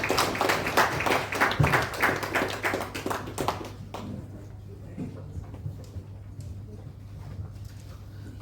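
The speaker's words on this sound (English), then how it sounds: "Please join us in welcoming Karunaharan to the stage with thunderous applause." A conference audience claps to welcome a speaker to the stage, a dense burst of applause lasting about four seconds before it thins to scattered claps and quiet room noise.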